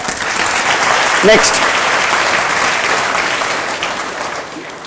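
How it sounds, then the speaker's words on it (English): Steady audience applause for a speaker at a talk, continuous and fairly loud, with a brief spoken word over it partway through. "Give her a big clap, sir."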